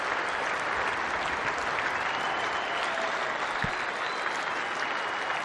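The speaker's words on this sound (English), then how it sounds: "More applause here because it's 250 for Adam Voges." A cricket crowd at a Test match in Australia applauds as Adam Voges reaches 250, a broad, continuous wash of clapping from a distant stand with a brief low thump partway through.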